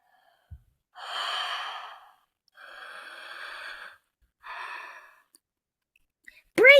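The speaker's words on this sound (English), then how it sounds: "Breathing! Did you know that we are always breathing all the time?" Three slow, audible breaths, each a soft airy exhale or sigh lasting about a second, separated by quiet pauses, close and clear, with a voice starting right at the end.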